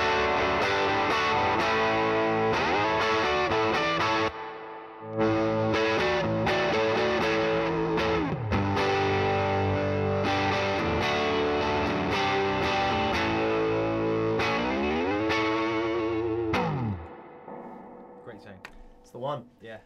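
A Les Paul electric guitar plays through a guitar amp with a thick, distorted gain tone. Sustained chords and notes ring continuously for about twenty seconds, with a brief break near the fifth second and a fade at the end.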